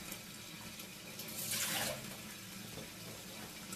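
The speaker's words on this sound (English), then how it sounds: "so I'm going to add a little more water" Water poured from a tap or pitcher into a pot of non-stir risotto to loosen it, a brief burst of splashing liquid swelling for about half a second over a steady kitchen background.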